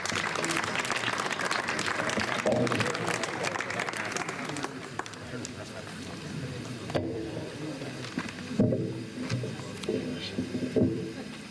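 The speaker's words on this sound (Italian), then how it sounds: "Un applauso." Audience applause for a poetry reciter, a steady wash of many hands clapping that fills the opening seconds and then thins out, with crowd murmur and scattered sounds continuing.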